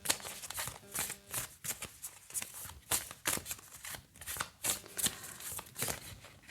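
A deck of oracle cards is shuffled by hand in quick, repeated riffling bursts, close and crisp, with short pauses between rhythmic flurries and no speech.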